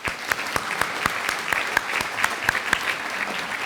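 A small group claps steadily in a room at a spring senior breakfast, honouring graduating honors seniors. Crisp, fairly even individual claps sound throughout without any talking.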